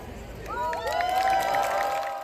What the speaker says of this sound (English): A crowd of about 100 cheered as they see for the first time a monument honoring Henrietta Lacks